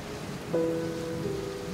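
Sudden spring rain in a high mountain forest in China, a steady broadband hiss of falling water that holds evenly throughout, with a sustained tonal line running above it.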